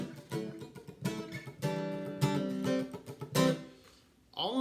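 An acoustic guitar is strummed with a relaxed wrist in a loose, uneven pattern of chords, close and moderately loud, fading out at the end as a voice starts.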